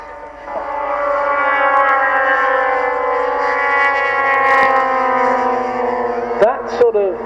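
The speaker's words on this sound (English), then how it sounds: "Sort of almost like a harmonic that you hear as the aircraft's going past at full revs is actually the tips of the propellers going supersonic" Giant scale DH.88 model aircraft at an air show passes at full revs, a loud sustained engine drone with strong harmonic whine that swells and recedes, ending with brief sharp noises.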